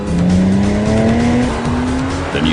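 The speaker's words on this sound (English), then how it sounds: "The engine sound is rich and distinctively Porsche." Porsche Cayman engine pulling hard with a rising tone and tire squeal, loud and close, pitch climbing steadily before easing near the end.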